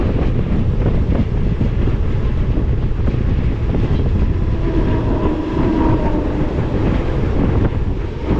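A Mumbai local train rolls along at speed, its steady loud rumble and rattling wheel clatter filling the whole stretch with no voices, buffeted by wind over the microphone.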